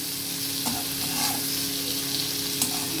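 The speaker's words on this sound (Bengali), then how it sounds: "মশলাটাকে ভালো করে সাথে মিশিয়ে ভেজে নিই" Spice paste for an okra curry sizzles steadily in a hot pan while a utensil stirs and scrapes through it, with a few louder scraping knocks over the continuous frying hiss.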